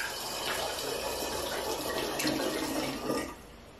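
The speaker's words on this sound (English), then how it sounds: "So we put first water in the vessel." Water runs from a tap and pours steadily into a vessel as the first liter goes in for homemade iced-tea wine, a continuous close splashing stream that stops near the end.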